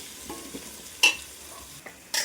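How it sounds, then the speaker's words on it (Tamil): Chilli powder stirred and fried in oil for a tapioca and dried fish curry, with a steady low sizzle broken by a few sharp spoon scrapes against the pan, close up with no talking. "போட்டு நல்லா சுள்ள நம்ம கிண்டிக்கணும். எண்ணெயிலே நல்லா வதக்கிக்கணும்."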